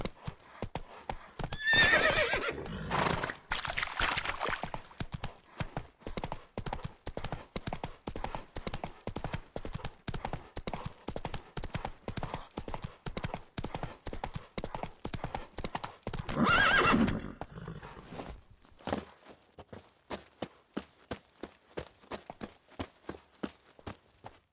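Geralt's horse in The Witcher 3, rhythmic hoofbeats clip-clopping steadily at a gallop for a long stretch, with two loud neighs rising above, close and clear and mostly without talk.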